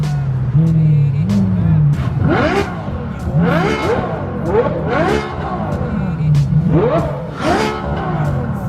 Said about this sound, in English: the Ferrari sounds good.